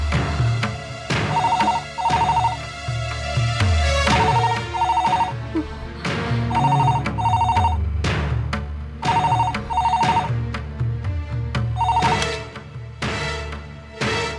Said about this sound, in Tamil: இன்னொரு தடவை ஃபோன் பண்ணா நந்தினி எங்க இருக்காங்கன்னு தெரிஞ்சுக்கிட்டு நீங்க போங்க.